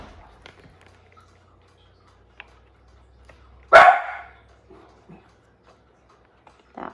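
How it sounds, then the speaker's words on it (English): One sharp dog bark rings out close by in a quiet indoor room, followed by faint scattered sounds and a soft noise near the end. "That would be my dogs."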